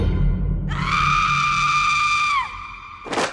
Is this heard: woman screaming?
yes